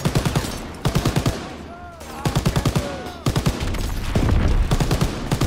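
Machine-gun fire in Call of Duty WW2, loud rapid bursts in repeated clusters with short pauses between volleys and faint bits of game sound in the gaps.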